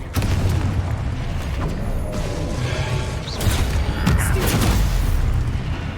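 In a Harry Potter video game, a Confringo blasting spell sets off a loud, continuous rumbling explosion that swells again partway through, layered with crackling debris and creaking clatter.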